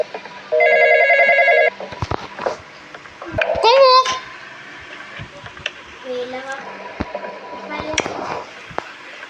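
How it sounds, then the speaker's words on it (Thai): An electronic telephone ring in the Roblox horror game The Intruder sounds as one steady, bright, tonal burst lasting about a second. Children talk and shout over scattered game noises afterward. "รับโทรศัพท์ก่อน"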